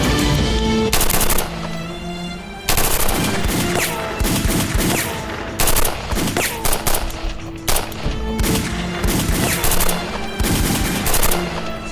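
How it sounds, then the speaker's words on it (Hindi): Gunfire rings out in a TV drama battle scene, with loud bursts of rapid automatic shots and sharp single cracks, broken by brief pauses, close and intense throughout. "स्नाइपर से इन पर फायर करो, रोको इनको।"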